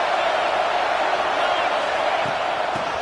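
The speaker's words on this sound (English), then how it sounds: "this crowd is turning it up a notch" Football stadium crowd roaring steadily at a college football game during a second-down play, a dense, loud wash of cheering that holds constant throughout with no distinct voices standing out.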